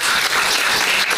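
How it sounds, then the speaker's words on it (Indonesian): Classroom applause for a student, a loud, close burst of many hands clapping steadily and continuously for a brief moment. "Tepuk tangan dong untuk Gaby."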